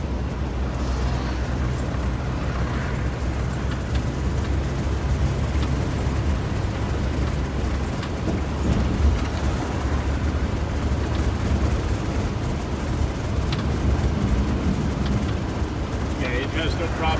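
Car cruising smoothly on the road during a test drive, a steady low engine and road rumble with wind noise, continuous and even throughout.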